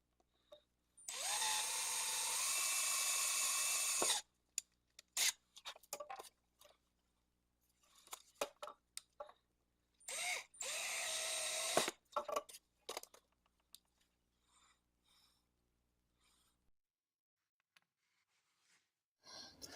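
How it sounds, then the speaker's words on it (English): A power drill whines in two long sustained bursts while drilling out pins on a Case 6319PU pocketknife, separated by clusters of sharp clicks and taps of handling, then quiet. "I'll drill out the pins that I cut earlier"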